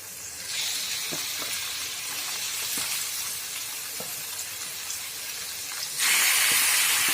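Meat sizzles and hisses steadily in a pan of melted tomatoes and spices while an Assamese dish is fried, with a brighter, louder burst of sizzling near the end and faint stirring taps.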